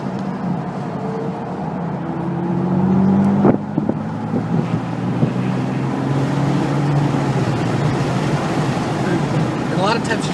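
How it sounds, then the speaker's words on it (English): BMW car lapping the Circuit of the Americas track, engine tone droning steadily with pitch sweeps as the driver lifts off and brakes, wind noise over the microphone throughout. "So I usually lift off the gas and I start getting on the brake here and then a little harder."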